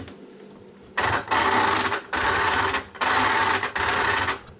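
Twin electric motors drive an Arrma Felony RC car's drivetrain, spinning up in four loud, close bursts of high-pitched whine, each about a second long with short pauses between.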